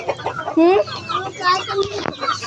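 Chickens cluck and squawk close by in busy, overlapping bursts, with a short rising call mixed in among the flock noise.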